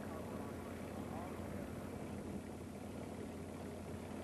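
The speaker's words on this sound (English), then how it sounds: "As Lee banks the aircraft to come back onto the display line" A Fieseler Fi-156 Storch, a wartime short-takeoff spotter plane, drones steadily overhead during an air display, its engine a continuous, faint, even hum with no break.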